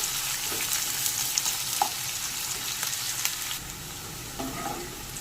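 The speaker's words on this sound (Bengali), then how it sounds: "পেঁয়াজটা একটু সামান্য ভেজে নেব।" Finely chopped onions, three medium ones, fry in ghee with a bay leaf, giving a steady close sizzle with light spatula scrapes and brief clicks, easing slightly toward the end; no one speaks.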